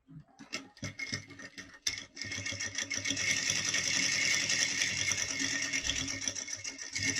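Sewing machine stitching a seam across the top of fabric lining where a pocket opening will be, starting with short irregular bursts and clicks, then running in a fast continuous whir, up close with no talking.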